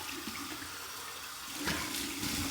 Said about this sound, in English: here's my final rinse from the tap,